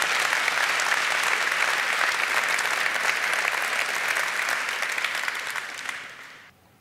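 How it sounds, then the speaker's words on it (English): Sustained audience applause at an award ceremony, a dense even wash of clapping from many hands that holds steady and then fades away at the end. "So here's your applause,"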